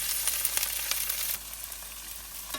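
Okra sizzling and frying in a hot pan, a steady dense crackle with brief stirring sounds, louder at first then settling to a quieter continuous sizzle.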